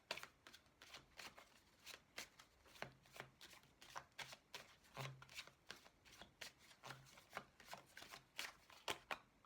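Tarot cards are shuffled and laid out for a reading, producing a close, quiet run of rapid papery riffles and soft slaps in an irregular rhythm, with no voices.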